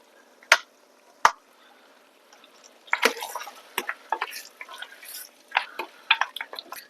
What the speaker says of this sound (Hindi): अब हम इसमें डालेंगे थोड़ा सा दही।